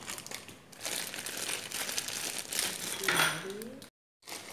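Dough is squeezed and kneaded inside a plastic bag, giving close, irregular crinkling and rustling bursts with a few faint clinks, then a brief dropout of silence.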